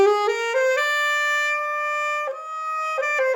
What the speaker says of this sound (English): So that's the sound of a saxophone.